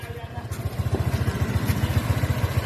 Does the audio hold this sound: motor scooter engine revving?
yes